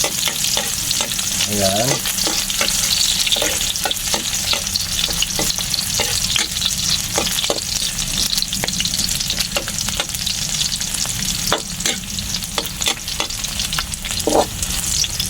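Garlic and onion sauté in a hot pan, crackling in a loud, continuous sizzle with scraping stirs throughout; a voice speaks briefly near the start.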